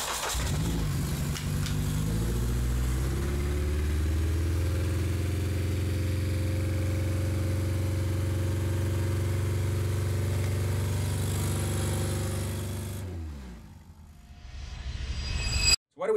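A Honda K24 engine under Megasquirt control runs steadily at a smooth, loud idle after a brief rev at the start, then cuts off near the end, followed by a short clunk.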